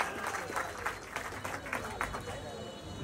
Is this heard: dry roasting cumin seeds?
no